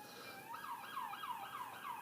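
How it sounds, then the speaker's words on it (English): Emergency vehicle sirens wail in the morning, a repeating rising-and-falling yelp cycling about every quarter second, faint and distant over quiet background. "nothing like sirens in the morning."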